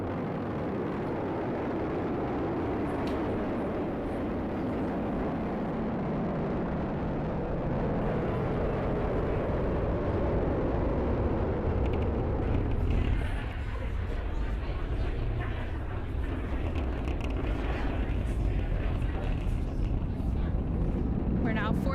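SpaceX Falcon 9 rocket carrying Crew-10 climbing after launch, a deep, loud, continuous roar with crackling rumble that slowly shifts as it recedes, heard from a distance.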